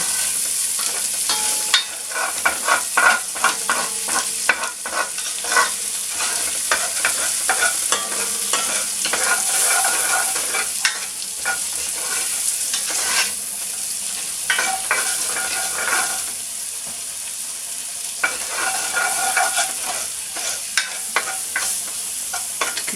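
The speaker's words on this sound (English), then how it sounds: "Just scraping up these bits of bacon that I've caught on the bottom." Bacon bits scraped off the bottom of a frying pan for cauliflower cheese, a steady close sizzle with repeated scratchy utensil strokes across the pan surface, continuous and fairly loud with no talking.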